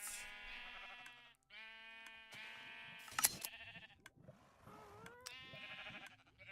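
Video-game sheep bleat repeatedly in clear, wavering cries, several calls in succession with short gaps between, close and fairly loud with no talk over them.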